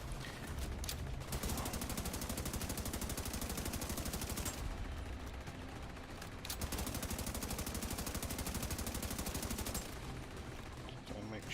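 Sustained automatic gunfire in The Division 2, long rattling bursts of rapid shots with a brief pause in the middle, loud and dense throughout.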